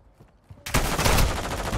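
Sustained M4 rifle fire in Call of Duty MW2 starts suddenly after a quiet moment, then continues as a loud, dense stream of rapid shots with no voices over it.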